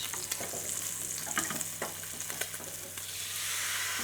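Banh xeo batter hits a hot pan and is swirled around, giving a dense, steady hiss of frying with a few sharper crackles and a slight swell toward the end.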